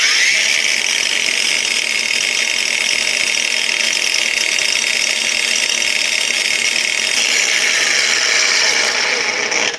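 A Heimerdinger LB184 cordless angle grinder whines steadily at idle, a high, continuous motor hum close by that cuts off at the end.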